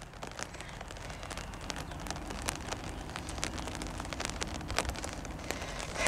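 Steady rain falls continuously outdoors, a dense hiss with scattered louder drop impacts and patters throughout, fairly close and even in level with no voices.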